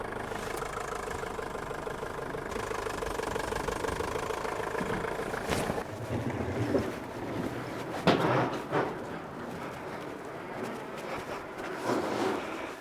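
A 1983 Tarpan 233 engine runs steadily with a mid-pitched, slightly knocking idle-like drone, rising a little as the vehicle moves off, with a few louder clunks later on and no talk.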